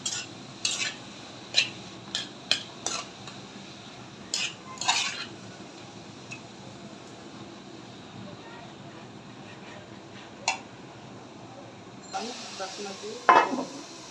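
White radish goes into a pan with salt and sugar over lightly fried onion, heard as scattered clinks and scrapes of a utensil over a faint sizzle, with a louder burst of stirring near the end.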